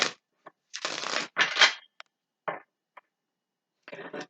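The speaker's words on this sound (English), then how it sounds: "let's give this a couple shuffles" Tarot cards shuffled by hand in a few short riffling bursts, separated by brief pauses and single soft taps, close and fairly quiet with no talking.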